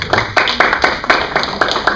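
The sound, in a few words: congregation applause in church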